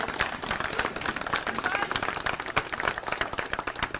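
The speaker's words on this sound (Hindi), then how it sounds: "जोरदार तालियों से स्वागत करेंगे" A crowd at a Diwali gathering of an auto-rickshaw drivers' wing of a political party claps vigorously, close and lively bursts of many hands that continue without letup, with voices mixed in.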